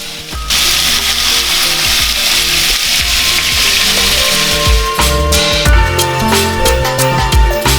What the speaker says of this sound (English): When you see a slight haze in the frying pan, this means that you can fry the meat.